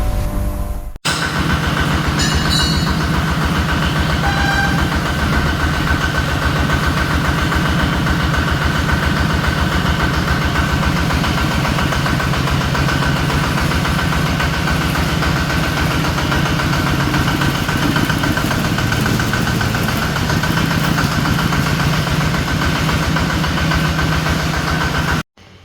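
Homemade two-cylinder tractor engine, a 15-horsepower ZT155 build, idling loud and close with a steady rapid knocking chug after a brief start, running unbroken for the whole stretch.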